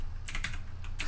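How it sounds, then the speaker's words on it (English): Quick keystrokes clatter on a computer keyboard, a short burst of crisp, close clicks in an irregular rhythm over a low background hum. "I have to type weather first,"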